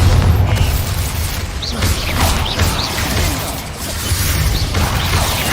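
Magical Bombarda blasts from the video game Hogwarts Legacy, heavy booming bursts with crashing debris, several impacts rolling over a dense, continuous battle din.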